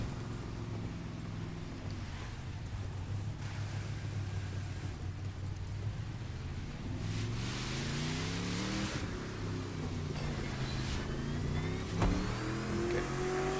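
A drag car engine in The Crew 2 video game drones and revs with rising and falling harmonic sweeps, steady and moderately close. It swells louder partway through, with no talk.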